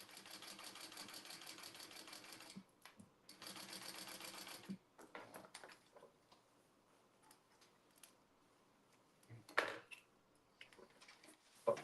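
A sewing machine stitches along the side of a Hyalite Mini Wallet made from a Castle Road Creative pattern. It gives two steady, close bursts of rapid needle chatter, then quieter handling clicks and rustling follow.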